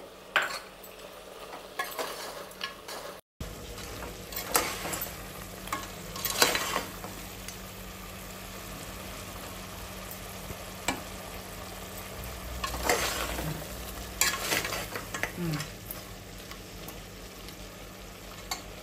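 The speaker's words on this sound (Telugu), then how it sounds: "ఇప్పుడు ఇందులోకి నేను అల్లం వెల్లుల్లి పేస్ట్ యాడ్ చేస్తున్నా." Mutton frying in a pan with ginger garlic paste, a steady sizzle under repeated stirring and scraping of a spoon against the pan, with occasional clinks of utensils, close and fairly quiet.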